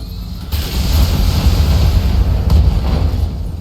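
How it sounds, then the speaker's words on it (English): A short-range missile explosion in the BattleTech video game: a loud, sustained rumbling blast with dense low-end roar running for several seconds, with brief sharper bursts near the start and again near the end. "SRM explosion."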